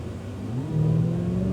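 A Cadillac CTS-V pulls out of a corner on the COTA race track, its engine note rising steadily in pitch as the throttle opens, loud and sustained from inside the car.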